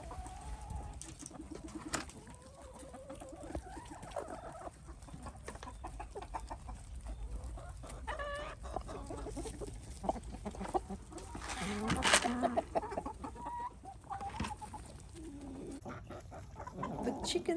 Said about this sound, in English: I'm gonna let you listen for a moment all the happy sounds they make while they were